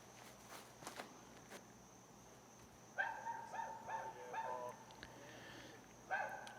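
A dog barks and yips in short bursts somewhere on a disc golf course during a pro tournament round, fairly distant and faint, with a few soft footsteps and outdoor ambience between the barks.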